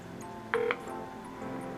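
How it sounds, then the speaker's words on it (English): A single short electronic ring tone sounds once on a mobile phone call to the China Airlines customer service line, clear but brief against a steady low line hum. "Oh, it's ringing."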